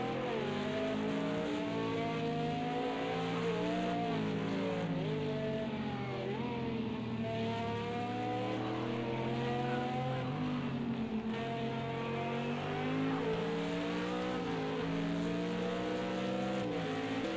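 Race car engines whine continuously in the video game Project Cars 2, a loud sustained roar whose pitch climbs and drops with repeated gear shifts and throttle changes, with no voices over it.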